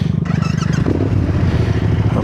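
A Yamaha Tenere motorcycle rides off-road, its engine note loud and close, with a steady throbbing rumble and some clatter from the rough track, running continuously without speech.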